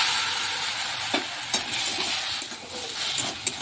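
Dal stirred into sautéed jackfruit and spices in a hot pan, a continuous sizzle broken by several sharp spoon scrapes against the pan.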